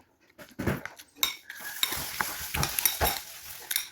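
Spoons and forks scrape and clink against dishes during a chicken biryani lunch, with irregular close scraping and tapping that continues steadily and no talking.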